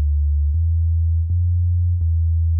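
A simple sub bass preset on a semi-normalled synthesizer drones as a deep, pure sine-like tone. It is retriggered with faint clicks about every three quarters of a second and holds a steady level throughout, with no voices.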